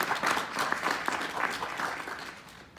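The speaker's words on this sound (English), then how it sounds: "Please join me in a round of applause" An audience at a military ceremony welcoming an 82nd Airborne lieutenant colonel gives a continuous round of applause, dense and fairly distant, with no talking over it.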